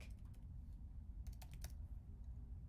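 Light, quick tapping on a computer keyboard while entering a word into music-coding software, a short run of soft clicks heard close and fairly quiet over a steady low background hum.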